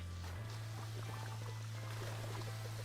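Water pours steadily into a tank being refilled in Fresh Start Cleaning Simulator, a quiet gurgling flow over a constant low electrical hum, with no talking.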